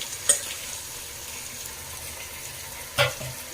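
Chicken pieces sizzle steadily in tomato masala for a biryani, with two sharp clanks of a spoon stirring against the pot, one near the start and one near the end.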